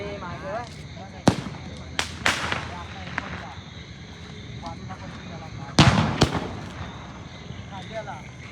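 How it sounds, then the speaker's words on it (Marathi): Firecrackers burst at night during a Bhaubeej festival celebration: several sharp, loud bangs come in irregular pairs, some close and some farther off, while people talk and chatter between them. "गाइस फटाका फोड़ने को आ गए हम लोग"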